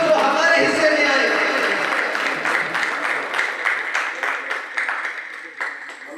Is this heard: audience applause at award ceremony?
yes